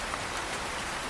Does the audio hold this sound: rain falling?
yes